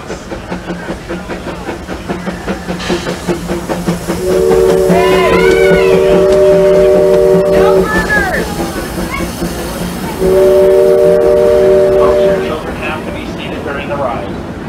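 A Disneyland Railroad steam train runs with a steady chuffing and hiss, broken by two long, tonal steam-whistle blasts, one in the middle and a shorter one later.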